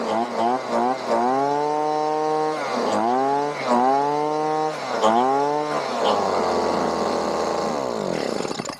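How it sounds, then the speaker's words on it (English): A small gas leaf blower engine revs up and down in repeated bursts, then holds a steady, loud, buzzing whine before cutting off. "It is really loud, and 170 miles per hour for a leaf blower is really powerful"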